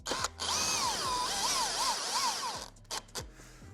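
A power drill whirs steadily for about two seconds with a rising and falling pitch as it drives a screw into a uPVC door when fitting a euro cylinder lock, followed by a few soft clicks.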